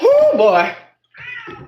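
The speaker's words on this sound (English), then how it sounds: "That was my cat." A house cat gives a loud, close, drawn-out meow, followed by a short spoken remark from a man after a brief pause.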